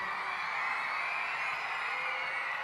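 Faint, distant applause and cheering from a pow-wow audience for youth dancers, a steady wash of clapping heard from afar without clear individual claps.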